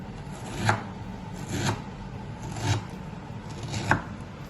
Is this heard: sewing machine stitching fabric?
no